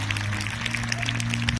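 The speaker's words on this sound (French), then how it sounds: "vous pouvez l'applaudir très fort." Spectators at a horse and eagle demonstration applaud the eagle and its handler with a brief burst of scattered clapping over a steady low hum, which cuts off abruptly at the end.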